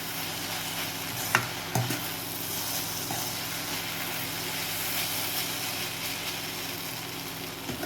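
Soft noodles tossed with tomato sauce and coriander leaves are stirred over and over in a hot pan, a continuous close sizzle with a few sharp spoon clacks and no talking.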